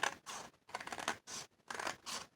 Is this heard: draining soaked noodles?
no